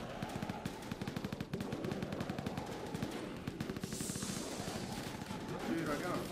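Rapid automatic turret fire in Call of Duty Zombies, a dense stream of rattling shots running continuously and fairly quiet, with a player's voice talking over it.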